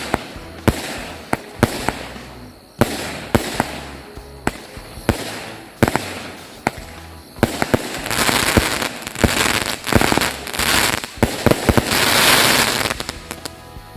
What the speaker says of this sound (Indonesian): ini mercon kita masih banyak banget ya